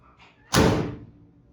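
A 1940 CMP F8 truck cab door swings shut with a single loud, close slam and a short metallic thud that fades quickly, no voices over it.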